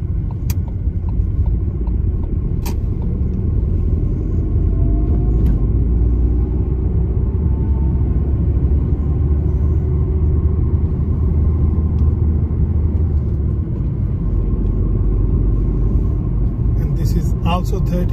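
A car engine rumbling low and steady in second gear while the vehicle turns left at a large junction, continuous and close, with an instructor talking over it.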